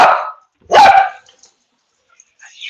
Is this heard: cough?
no